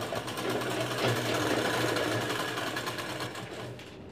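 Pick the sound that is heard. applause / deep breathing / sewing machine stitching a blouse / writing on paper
sewing machine stitching a blouse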